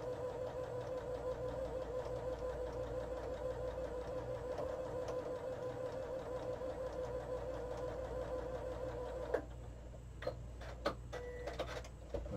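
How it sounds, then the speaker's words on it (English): A sewing machine stitches a strip onto a quilt block with a steady, humming motor drone for about nine seconds, then stops, leaving a few light clicks and handling sounds. "So let's just finish sewing this strip on."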